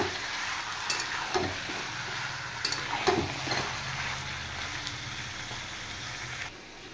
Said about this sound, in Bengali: এবার চিকেনগুলো একটু ফ্রাই করে নেব।